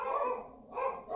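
A dog barks twice at close range, two short, loud yelps separated by a brief gap, with no talk over them.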